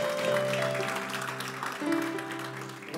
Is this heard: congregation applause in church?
yes